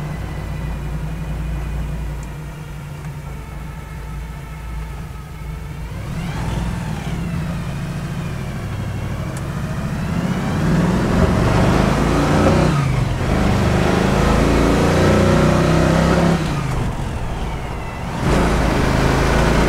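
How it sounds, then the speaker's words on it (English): A 1967 Chevrolet Camaro engine pulls hard through the gears, a loud, continuous roar that climbs in pitch and dips briefly between shifts, close by with no talk over it. "I'm gonna go up here and turn it around and run it through the gears a little bit."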